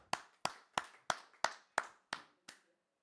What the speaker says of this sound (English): we want you to give another virtual round of applause